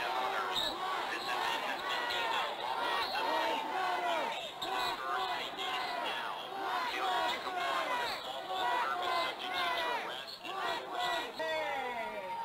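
A protest crowd at a night of disturbances roars and chants in waves, the massed voices swelling and easing again and again, loud and dense throughout.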